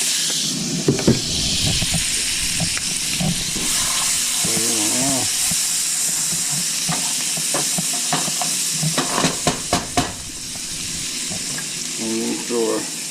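Garlic sizzles in melted butter in a pan, a loud, bright hissing fry with bursts of crackling and scraping stirs, while a voice murmurs briefly underneath.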